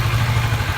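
A 2017 Kawasaki Vulcan S Café ABS motorcycle idles warm, a steady low, even engine putter close by with no voices over it.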